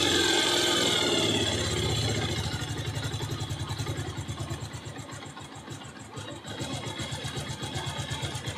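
A Bajaj Pulsar 220F motorcycle engine settles from a higher rev down to a steady low idle, with a regular pulsing putter throughout.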